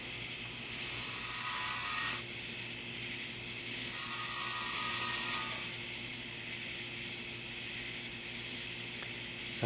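Compressed air rushes through a tire chuck with a gauge into a 15.5/80R20 tire on an M35A2 deuce-and-a-half split-ring rim inside a shop, in two loud, close hissing bursts of about two seconds each, separated by quiet.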